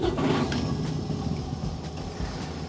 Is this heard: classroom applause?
no